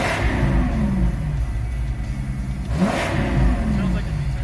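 A Ford Triton V10 engine with 198,000 miles runs close by, revving up twice with a rising, throaty roar before settling back to a steady, rumbling idle.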